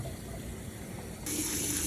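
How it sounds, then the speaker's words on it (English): Water pours from a tap into a container of ryegrass seeds, a steady low rush that swells into a brighter, louder gush partway through. "I'm going to fill it up to where the water is about 2 inches over the seeds"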